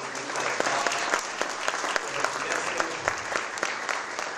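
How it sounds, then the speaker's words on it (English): Congregation at a Trinity Episcopal Church chapel service applauding Rector Phil Jackson, a dense, steady wash of hand claps filling the room from start to finish. "Would you join me in giving uh, Rector uh, Phil Jackson another hand clap of praise?"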